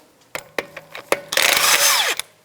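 A power tool zips the wheel off a 2009-2013 BMW 328i xDrive with a 17mm socket, several short sharp bursts followed by a longer whirring run that winds down, close and loud.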